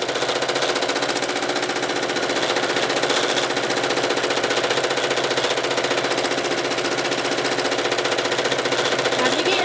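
A sewing machine doing free motion quilting runs nonstop at high speed, a loud, dense, even rapid rattle of the needle close to the microphone for the whole stretch.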